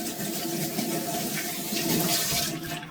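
Water runs steadily at a sink as hands and utensils are rinsed after trimming baby back ribs, a continuous close hiss with faint clatter and no talking.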